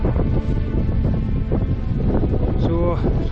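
Strong wind howls and buffets across an exposed Northumbrian crag at night, a loud continuous roar with gusty rumble and flapping, heard up close without a break.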